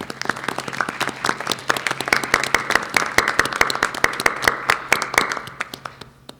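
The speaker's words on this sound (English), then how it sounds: "if we can maybe give them a round of applause" Audience applause at a school board regular meeting, a room of people clapping in a dense, steady patter for several seconds, close and fairly loud with no talking over it.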